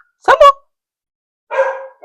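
A dog named Salmo barks at neighbours backing their car out, two sharp close barks in quick succession followed after a pause by a longer, louder bark, nothing else around them.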